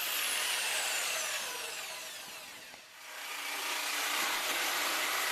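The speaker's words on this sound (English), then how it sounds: "Straight and profile cuts are no problem in aluminium either, even if the material is quite thick." A Bosch jigsaw saws through thick aluminium, a loud continuous high-pitched machining whine that dips briefly mid-cut before climbing back to full intensity, with no voices.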